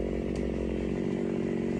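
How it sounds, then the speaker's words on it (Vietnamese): A chainsaw drones continuously at full throttle while cutting a large, roughly 30-year-old eucalyptus tree about 20 metres tall, loud and close with a steady engine whine. "Hôm nay cùng với anh Kiệt, anh Minh, em Trí đến quay cưa cây bạch đàn hai đoạn."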